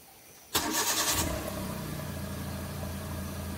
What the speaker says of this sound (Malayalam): ഈ ഒരു വണ്ടിയുടെ എഞ്ചിൻസ് അവിടെ നിന്ന് കേൾക്കാം.